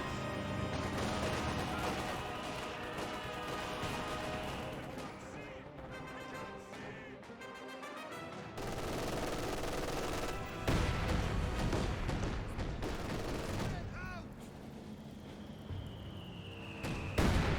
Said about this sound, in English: Mortar is hitting the VP.